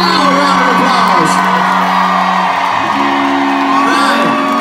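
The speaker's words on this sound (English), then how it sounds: "Now, a round of applause." A concert crowd at the Xfinity Center in Mansfield whoops, cheers and applauds loudly for veterans, with high shouts and whistles rising over a dense, sustained roar.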